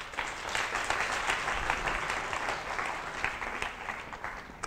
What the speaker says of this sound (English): So how about a round of applause for Mr. David?